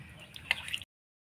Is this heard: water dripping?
yes